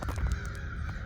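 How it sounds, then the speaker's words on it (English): Crows cawing outdoors along a park trail loop, a few short harsh calls in quick succession, moderately distant over a low rumble of background noise. "I feel like you're gonna hear those crows."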